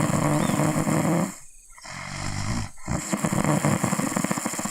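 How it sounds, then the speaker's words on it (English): A pug snores loudly right against a microphone: heavy, rasping inhales and exhales repeat in slow cycles, with a brief quieter pause between breaths. "A pug with a microphone really close to its face."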